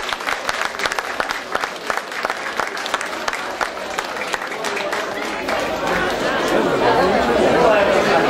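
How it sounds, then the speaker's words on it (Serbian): Audience applause and chatter for a folk dance troupe of shepherds from a cultural-artistic society at a flower and honey festival in Kusiće, a dense crowd clapping that swells louder toward the end amid voices. "Veliki aplauz, uživajte!"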